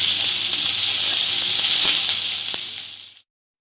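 Onions and vegetables sizzle in a hot pan while cooking chili soybean, a steady loud frying hiss that runs for about three seconds before cutting off abruptly, with no talking.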